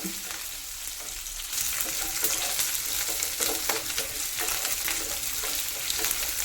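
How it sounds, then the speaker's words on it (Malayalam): Chopped shallots, garlic and green chillies fry in a pan, giving a steady, close, dense sizzle that grows slightly louder partway through, with no voices. "നമ്മൾ അരിഞ്ഞു വെച്ച ചെറുള്ളിയും വെളുത്തുള്ളിയും പച്ചമുളകും അപ്പം അതൊന്നും അങ്ങോട്ട് വാടിയിട്ട്"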